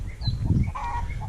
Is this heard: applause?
no